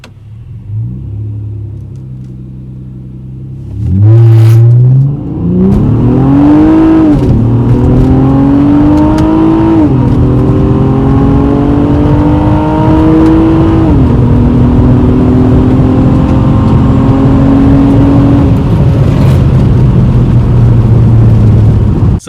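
A Honda Accord in sport mode with eco mode off accelerates hard through paddle-shifted gears. The close engine note climbs repeatedly, each rise ending in a shift, then settles into a steady loud drone as it reaches speed.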